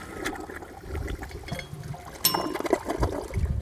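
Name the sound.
Toto toilet flushing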